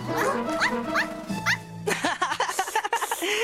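A cartoon dog, a new puppy in the French-dubbed Horseland animated series, gives several short high yips and barks, with rising whiny calls, over background music.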